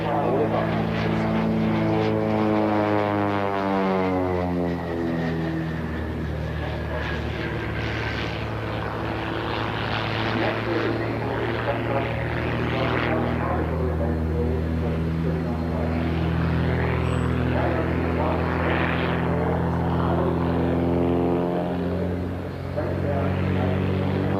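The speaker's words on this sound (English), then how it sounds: "the 2 pit special pilots, Richard Hood and John Kelly, roll their tiny aerobats in for a touchdown" Two tiny Pitts Special aerobatic biplanes rolling in to touch down at Auckland International Airport during Air Expo 1992, propeller engine drone rising and falling steadily throughout, with a voice talking over it.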